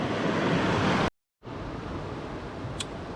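The raging Yuba River in California rushes past in a dense, continuous roar of flowing water. It cuts out briefly to silence partway through, then resumes steadily with no voices.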